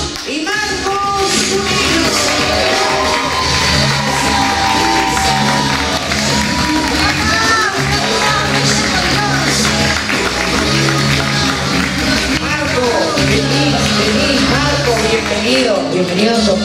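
A loud, sustained roar of studio audience applause and cheering greets the celebrity contestants at a TV cooking show press conference, dense and steady throughout, with music mixed in underneath.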